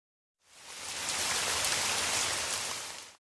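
Heavy rain pours down as a typhoon approaches, a loud, dense hiss that swells in, holds steady for about three seconds and then cuts off.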